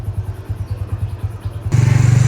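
A motorcycle engine idling after a Toyo G 4T fuel system cleaner treatment, a loud, close, pulsing putter that steps up into a stronger, steadier throb near the end.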